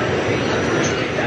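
Passenger train in motion on a trip through Italy near Bologna, a loud steady rumbling roar of the carriage interior, constant and close with no breaks.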